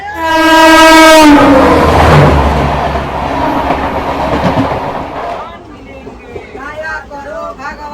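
The Garib Nawaz Express, train 15715, sounds a loud, close horn with a long steady blast, then rolls past with rumbling, rattling carriages and wheel clatter, while voices are heard toward the end.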